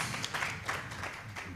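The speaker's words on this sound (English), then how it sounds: "A round of applause." Brief audience applause at a national symposium on ending teenage pregnancy and child marriages in Uganda, a moderate burst of scattered clapping from a seated crowd in a hall, fairly close.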